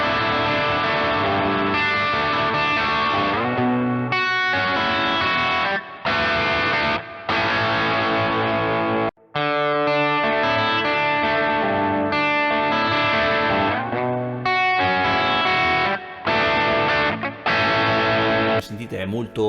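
A heavily distorted electric guitar fitted with Tonerider Generator pickups with Alnico 5 magnets, playing gritty rock and metal riffs with held chords and brief gaps, loud and up close.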